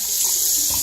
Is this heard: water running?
yes